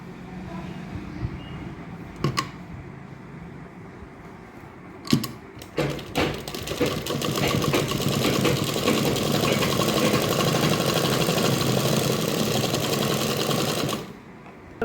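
A sewing machine runs a long straight seam along a strip of fabric, a steady close mechanical whir lasting several seconds after a few short clicks and knocks of handling.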